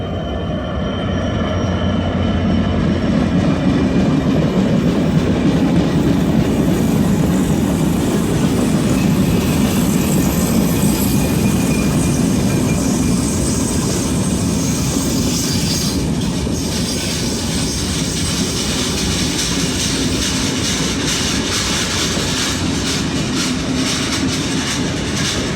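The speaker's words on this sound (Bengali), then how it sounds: "13 নম্বর লোকোমোটিভ, আমার পছন্দের একটা লোকোমোটিভ নিয়ে সে প্রবেশ করতেছে।" Ruposhi Bangla Express pulling into Bhanga Junction station behind locomotive number 13, a steady loud rumble of rolling wagons and wheels with clattering and some high squeal throughout, heard up close without talk.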